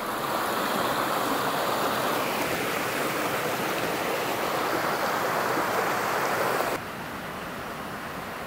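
A small stream in a forest video game, a continuous close rushing and gurgling of water that holds steady and loud, then abruptly drops to a softer level near the end.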